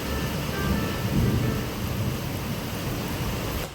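Steady heavy rain pours with a low, rolling thunder rumble underneath, dense and close, with no voices.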